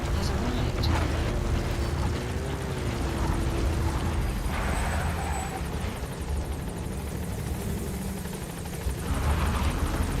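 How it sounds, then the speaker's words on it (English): A support helicopter's rotor and engine drone steadily throughout in Metal Gear Solid V: The Phantom Pain, loud and close, mixed with game sounds and voices talking over it. "Support helicopter has arrived."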